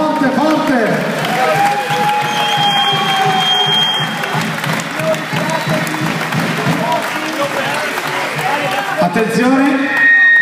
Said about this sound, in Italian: Un applauso forte, forte, forte.